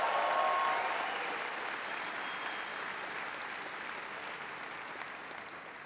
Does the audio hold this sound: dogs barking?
no